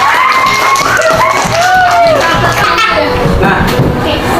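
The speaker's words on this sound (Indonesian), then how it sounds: "Tepuk tangan." A fifth-grade class of children claps after a classmate's story, a bright scattered patter that builds and runs through the end, with children's voices at the start and mixed into the clapping.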